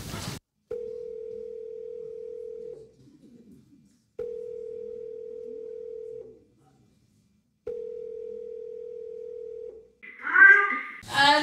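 A telephone rings out three times over a speakerphone, each long steady tone separated by a pause, clear and alone in near silence, followed by a burst of voices as the call connects.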